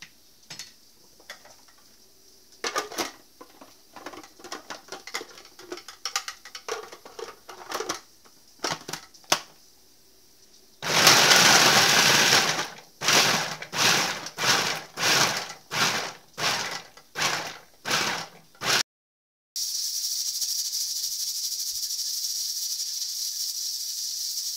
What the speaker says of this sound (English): I'm going to use my food processor to chop my carrots and my onions